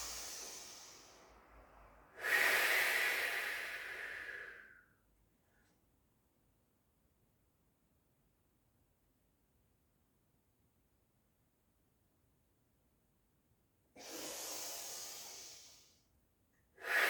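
Deep breathing during a kundalini yoga breath exercise, two long, close, airy inhales or exhales separated by a long held silence, with a third breath beginning at the end.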